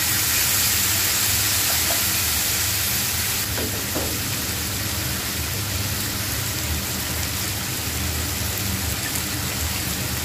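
Meat with pepper, chilli powder and soy sauce fries in a pan for a cheesy pasta dish, sending up a loud, continuous, rain-like sizzle close by with faint stirring clicks.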